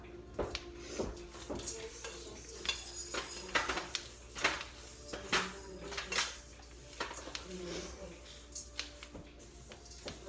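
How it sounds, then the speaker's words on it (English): Vegan apple cinnamon energy bite ingredients being mixed in a bowl with a spatula, giving irregular soft scrapes and knocks, close and moderately quiet, with people talking at times. "We're gonna mix it all together a little bit."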